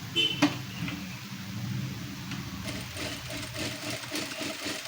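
Sewing machine stitching a finishing strip along a square neckline, a steady faint mechanical whir with a fast rhythmic needle patter, close by, after a brief knock at the start.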